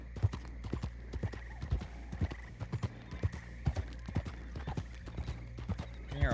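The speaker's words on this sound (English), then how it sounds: "I can hear a horse somewhere" Horse hooves clip-clopping in the RedM game, a steady run of crisp hoof strikes in an uneven gait rhythm, fairly close and alone, with a faint whinny-like tone near the end.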